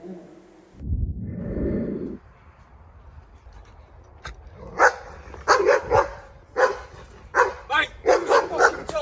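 A young dog barks during protection training, a low rumble first, then a rapid series of sharp, close barks that grow more frequent toward the end.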